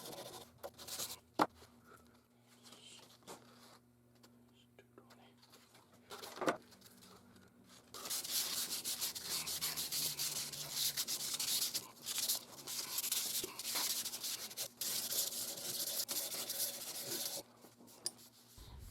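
A walnut knife handle is worked over with 220-grit sandpaper, heard as faint dry rubbing at first and then a long run of steady rhythmic scratchy strokes close by, with a bird cooing softly in the background.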